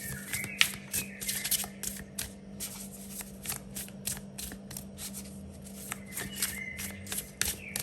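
Tarot cards are shuffled up close in quick, crisp riffles and soft slides, a busy flurry of papery flicks against a faint steady hum.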